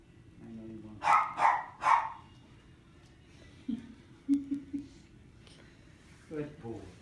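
A dog in a home barks and yips in a quick burst of three, then gives softer whining yelps, heard close and mixed with people talking.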